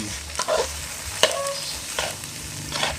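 Rice stir-fried in a hot pan, a continuous sizzle punctuated by repeated scraping and tossing strokes of a spatula at irregular intervals, close and fairly loud, with no speech.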